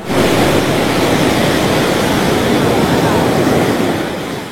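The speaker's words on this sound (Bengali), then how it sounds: "সকালের এই সময় সমুদ্রের আওয়াজটা খালি শুনুন।" Morning ocean surf at the beach in Puri, a loud continuous roar of breaking waves with wind buffeting the microphone, easing slightly toward the end.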